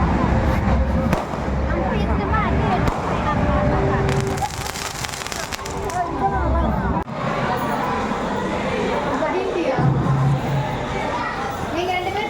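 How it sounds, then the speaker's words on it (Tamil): Firecrackers set off outdoors at a wedding celebration, a dense crackling burst of rapid pops, loud and near, with crowd and children's chatter running underneath. "பாருங்கள், அவுட் பட்டாசுலாம் விட்டுட்டு இருக்காங்க மேரேஜ் செலிப்ரேஷன் பண்ணிவிட்டு."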